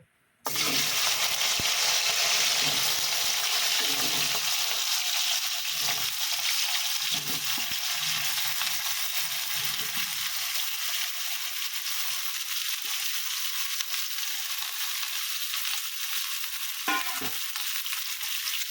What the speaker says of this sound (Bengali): এই আলু ভাজা তেলের মধ্যে আমি ইঁচড়টাকে ভেজে নেবো